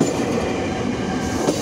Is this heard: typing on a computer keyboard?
no